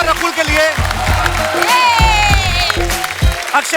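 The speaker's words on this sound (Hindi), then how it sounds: "जोरदार तालियां अक्षय बाजी और रकुल के लिए" A comedy talk-show studio audience gives loud applause to welcome Akshay Kumar and Rakul Preet Singh, the clapping close and blended with cheering voices and music.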